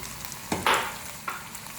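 A large tomato goes into a pan of fried onions while making aloo keema, giving a short burst of sizzling and a couple of stirring scrapes, close by, with steady frying underneath and no voices.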